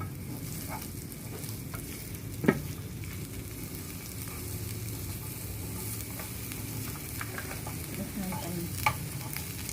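Kencur, an aromatic ginger, sizzles steadily in a hot pan while being stirred, with a few sharp scrapes and clicks of the utensil standing out above the even frying hiss.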